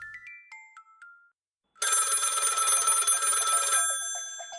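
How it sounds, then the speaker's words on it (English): A telephone rings loudly and alone: a sustained electronic trill after a few short beeping tones, then it fades out. "The phone rings."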